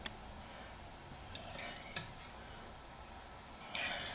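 A spoon stirs onions in a goulash pot, giving a few soft metallic scrapes and clinks against the pot at close range over low background noise.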